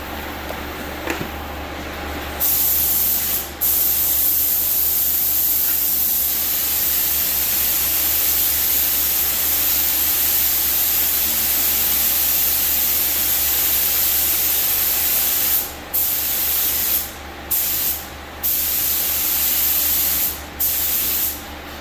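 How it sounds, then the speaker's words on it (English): Spray gun laying metallic paint onto a quarter panel of a 1972 Triumph TR6, a steady close hiss running almost continuously, with a few short pauses near the end as the trigger is released. "I think all that metallic was stopping up my strainer that I have typically inside the gun here."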